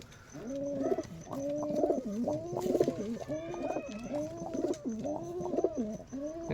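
Repeated soft, throaty coos from Giribaz pigeons in a steady rhythm, close by, with faint background noise and no speech.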